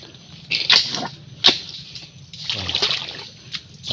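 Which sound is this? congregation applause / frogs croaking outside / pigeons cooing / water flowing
water flowing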